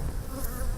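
Honey bees buzz in a steady, dense drone inside a man-made box hive. The hum stays close and even throughout, with no voices.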